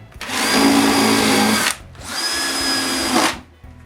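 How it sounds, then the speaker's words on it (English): A power drill drives screws into wood in two sustained bursts, each spinning up loudly for over a second before stopping, with a brief pause between them. "To make it all more solid, I screw everything."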